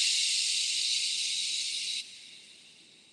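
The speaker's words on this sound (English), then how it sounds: "Long exhale through the mouth." A long, steady exhale through the mouth with a breathy sh sound, close and continuous, softening abruptly partway through and fading out.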